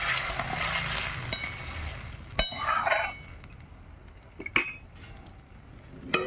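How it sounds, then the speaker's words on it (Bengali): A utensil stirs small mixed fish with water in a pan. Soft scraping comes with a few sharp metallic clinks against the pan, all faint and close, with quiet stretches between. "চুনো মাছগুলো দিয়ে দিলাম এবার দিয়ে দিচ্ছি পরিমাণ মতো জল ভালো করে মাছগুলো মিশিয়ে নিলাম"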